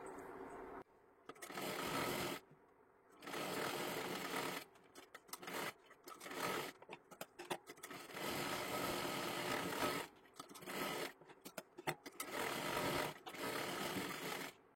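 Close bursts of whirring from a sewing machine stitching a sleeve seam on a girl's one-piece dress, running in several runs of a second or two separated by quiet stops, with a few short stuttering taps.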